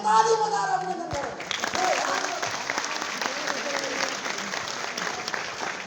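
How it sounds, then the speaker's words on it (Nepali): A crowd applauds Prime Minister KP Sharma Oli. A voice speaks briefly at the start, then dense, steady clapping fills the room for several seconds at a moderate distance. "हामी सबैले सम्माननीय प्रधानमन्त्री केपी शर्मा ओलीलाई ताली बजाएर अभिनन्दन गरौँ"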